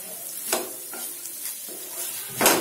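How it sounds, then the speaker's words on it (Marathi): Tinda filling cooking in masala in a pan gives a soft, continuous sizzle, with a few stirring scrapes spaced through it and a louder scrape near the end, close up and without talk. "आता आपण याच्यात हे ढेमसाच्या आतलं सारण आहे ते याच्यात टाकून घेऊया"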